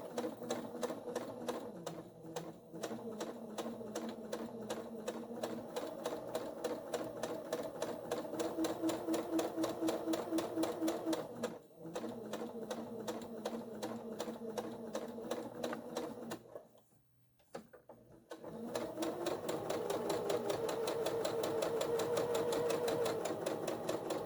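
A sewing machine stitches a quarter-inch seam on a pleated fabric pouch in long, steady runs of rapid, close whirring. The runs are broken by brief stops and one longer pause, with no voice over the motor.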